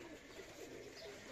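Young Birmingham Roller pigeons in a loft coo softly, low murmuring calls overlapping in a quiet, continuous texture against faint background noise.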